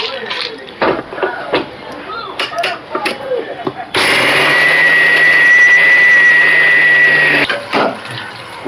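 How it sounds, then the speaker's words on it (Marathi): After a few seconds of talking, a mixer grinder grinding peanuts starts with a loud, steady whirring drone for several seconds before cutting off. "हे जे शेंगदाणे आहेत ना आपल्याला हे मिक्सरच्या भांड्याने बारीक करून घ्यायचे"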